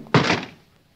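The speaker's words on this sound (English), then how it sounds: "Baldy kicked the door shut" A door is kicked shut as a 1947 radio drama sound effect, giving one close, heavy thunk that fades over about half a second.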